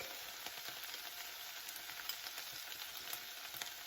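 Softening onions frying in a pan, a faint, steady, close hiss of sizzling with a few small crackles and no talking.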